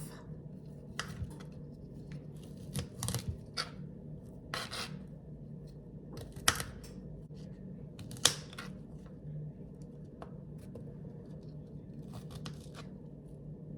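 A knife cuts the stalks off broccoli during dinner prep, with soft rasping strokes and a few sharp clicks over a steady kitchen hum, close by and fairly quiet.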